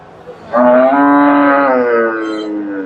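A single loud cow moo, drawn out for about two seconds, close by against a quiet background, at a Friesian cattle market in Bogura.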